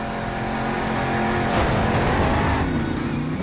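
Monster truck engine from the Monster Jam Steel Titans video game as the Zombie Fire truck launches into a backflip: a steady, loud revving roar with pitch sweeping upward and tire noise, no talking.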